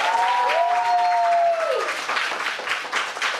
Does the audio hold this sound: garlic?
no